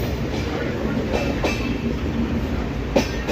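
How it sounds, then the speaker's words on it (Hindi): Clickety-clack of a passenger train running from Asansol to Patna, heard from inside the carriage as a steady loud rumble with regular wheel clicks over rail joints. "ट्रेन पे जब मैं सफ़र कर रहा था तो ये वीडियो बनाया"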